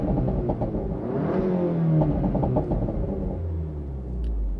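A VW MQB car with an overrun crackle feature rumbles and revs nearby: loud engine drone rising and falling, with a lower steady rumble toward the end. Distinct exhaust pops are not clearly separable.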